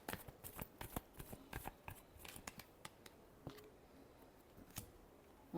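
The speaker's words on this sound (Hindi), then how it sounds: "Last shuffle." A deck of tarot cards is shuffled close by, a quiet run of crisp riffling flicks and soft snaps in irregular bursts.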